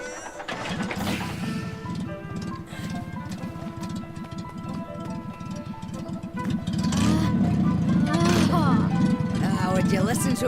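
A car engine in a video game hums low and steady, rising to a fuller, louder run partway through, with people talking over it.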